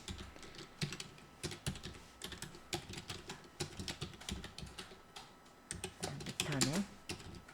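Typing on a computer keyboard while building a document in a word processor: a steady run of light, rapid key clicks at moderate level, with a person talking quietly over the tapping.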